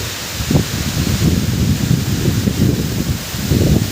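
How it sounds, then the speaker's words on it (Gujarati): A heavy night storm with strong wind and pouring rain makes a dense, steady roar, with louder gusts swelling and buffeting the microphone throughout. "અત્યારે ફૂલ તોફાન છે, ફૂલ વરસાદ ને ફૂલ પવન"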